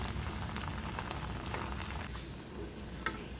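Tikia kebabs made with meat frying in oil in a pan, a steady close sizzle and crackle with scattered small pops, quiet and continuous with no one talking.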